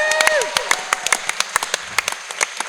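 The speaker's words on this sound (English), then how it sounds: "Give them a round of applause, y'all." Applause from a convention audience welcoming the Power Rangers Megaforce cast to a panel, crisp separate claps at close range mixed with a brief voice at the start.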